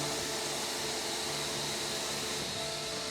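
A vacuum cleaner drones steadily at a car wash garage, a loud, close, unbroken hiss and whine while a car is cleaned, with no speech over it.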